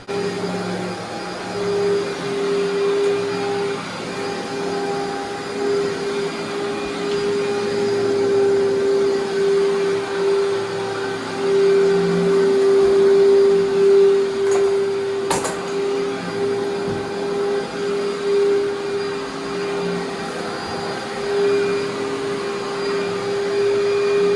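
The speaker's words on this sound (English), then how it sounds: "First step, though, of course, is to commercially vacuum all the carpets very thoroughly." A commercial vacuum cleaner running over heavily soiled carpet, a loud continuous motor whine with a steady tonal hum that swells and eases slightly as it moves, with one brief click midway.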